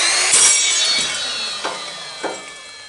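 An Evolution Rage 4 saw cuts through a metal tube that has not been clamped down, giving a loud steady whine with a few sharp knocks and jolts as the piece shifts, and no one speaking.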